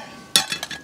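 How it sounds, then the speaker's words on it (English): A titanium pot stand is set down on an alcohol stove with a sharp metallic clink followed by a few quick lighter rattles, close and clear with no talking. "There is the pot stand going on."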